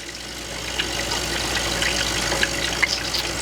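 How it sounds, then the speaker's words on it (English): A fruit and vegetable washer runs water over plums in a kitchen under low household water pressure, giving a steady close rush with small splashes and clicks, and nobody talks. "So here we go, washing the plums now."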